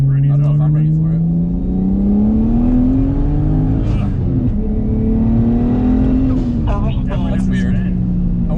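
A single-turbo BMW 335i on new tires accelerates hard, its engine note climbing steadily through the gears, loud and close from inside the car, with voices talking over it.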